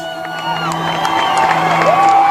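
Crowd gathered outside a courthouse cheering and whooping after a guilty verdict, a steady roar of voices with rising shouts, sustained and fairly loud throughout.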